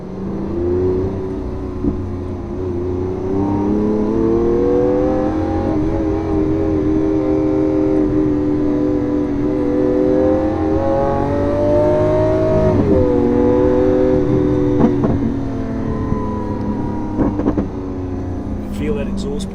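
A Lamborghini Aventador on a race-track lap: the engine and exhaust drone loud and close from inside the car, the pitch rising and falling through gear changes and braking, while someone talks over it.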